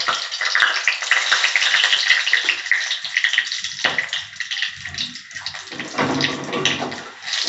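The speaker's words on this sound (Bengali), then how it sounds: "এখানে আছে দারচিনি, এলাচ, লবঙ্গ। আমি এটা ফোড়নে দিয়ে দিলাম।" Cinnamon, cardamom and cloves, along with dried red chilli and a bay leaf, sizzle as they temper in hot oil. A loud, steady hiss runs throughout and thins briefly midway before surging again.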